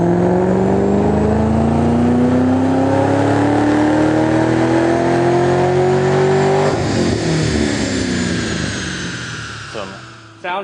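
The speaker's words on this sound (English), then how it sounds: "We just got her strapped into the Dynojet dyno. We're going to do some rear wheel horsepower and torque measurements." A supercharged car fitted with a full 3-inch exhaust revs hard on a Dynojet rear-wheel dyno, a loud close engine note climbing steadily in pitch for several seconds before lifting off and fading.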